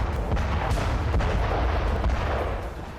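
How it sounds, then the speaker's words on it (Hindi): Artillery and rocket fire in the Russia-Ukraine war, a run of heavy booming shots in a rough irregular rhythm, loud and reverberant, with the rumble fading toward the end. "बेहिसाब अग्निबाण दागे जा रहे हैं, बारूद बरस रहे हैं"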